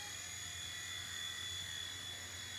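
A Wltoys V911 RC helicopter flies indoors, its small motor and rotor giving a steady, close, high-pitched whine that holds constant throughout with no talking.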